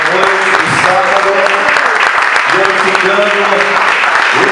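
A Saturday-night church crowd gives loud, dense applause, continuous throughout, with voices heard over the clapping.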